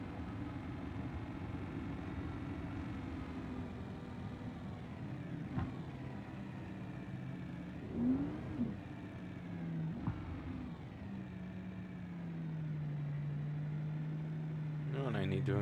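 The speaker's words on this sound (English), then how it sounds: "The engine sounds so mean when it's warmed up" A warmed-up car engine runs at a steady, low idle, faint and continuous, with a few slight rises in pitch and brief knocks.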